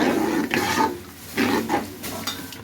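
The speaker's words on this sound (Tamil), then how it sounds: "ஒரு நூறு கிராம் தயிர் இது நல்லா கலக்கி விட்ருங்க" Yogurt being stirred into a tomato masala in a pan, with repeated scraping strokes and soft clinks of the spoon against the metal pan, close and fairly loud with no talking.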